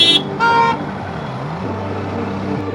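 Car horns toot in two short blasts near the start over the steady rumble of busy road traffic, heard from a motorcycle on a long-distance ride toward Odisha on the route from Kolkata to Bangalore.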